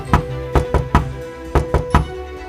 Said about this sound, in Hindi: एक ब्राह्मण और ब्राह्मणी दरवाजे पर दस्तक देते हैं।